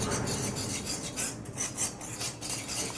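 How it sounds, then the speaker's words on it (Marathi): A spoon scrapes and rubs steadily through thickening puran mixture in a pan on medium heat, a soft continuous rasping close by with no talk. "याला सारखं मिक्स करत राहायचं आपल्याला."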